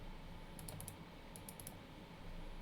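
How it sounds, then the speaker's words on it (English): Fingers type on a computer keyboard in two quick bursts of close, crisp clicks, separated by a short pause, over a low steady room hum. "I need to keep typing."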